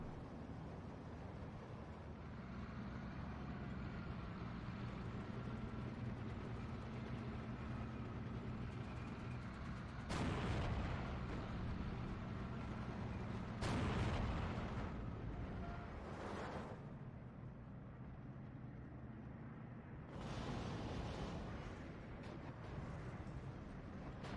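Bombing runs in the World War II strategy game Steel Division 2 produce several deep, muffled explosion booms over a constant low rumble of battle and engine noise.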